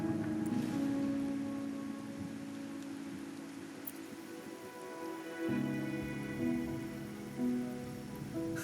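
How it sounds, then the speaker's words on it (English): Steady rain falling in the video game Wuthering Waves, a continuous soft patter under sustained musical tones, with no voices. "passing the time until the rain ends?"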